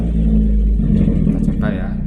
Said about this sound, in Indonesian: Kita kebanyakan saya coba knalpot bass basahnya, suaranya beda.